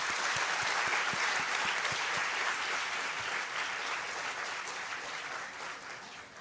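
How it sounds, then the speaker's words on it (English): An audience applauds quiz participants at the grand finale of a national-level quiz competition: dense, steady clapping from a large crowd that holds throughout and eases off slightly toward the end. "they deserve a big round of applause from our side"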